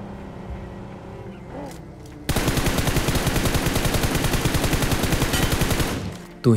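Rapid automatic gunfire in BGMI chases a vehicle, a long loud burst of evenly spaced shots that starts abruptly and runs for about four seconds, with engine noise before and under the firing.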